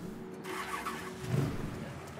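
Car engine in the Mafia 3 video game turning over and starting, a low rumbling crank that swells briefly near the middle of a short stretch, moderately quiet under faint game background.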